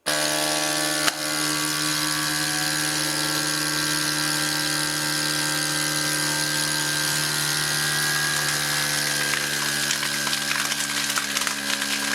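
A CalmDo vacuum sealer runs on its dry-food setting, a steady motorized hum and whine with a strong drone that holds unchanged for about twelve seconds after a brief click at the start, close and alone.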